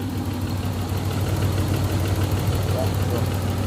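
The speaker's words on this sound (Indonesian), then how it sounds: "Mesinnya masih halus sekali." A 1991 Toyota Crown with a six-cylinder 2000 cc engine idles close by in a smooth, steady, low hum that holds evenly throughout.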